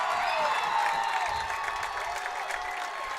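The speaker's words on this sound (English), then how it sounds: "you hear the roar of the crowd." A crowd at a high school football jamboree roars and applauds continuously, a dense wash of cheering and clapping held at an even, moderately loud level from start to finish.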